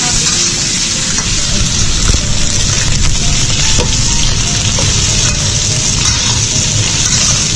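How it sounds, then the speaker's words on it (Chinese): Chunks of chicken sear in a hot wok for chestnut chicken in a rural home kitchen, giving a loud, continuous close-up sizzle and crackle of oil with faint stirring. "先爆炒一下，爆香了。"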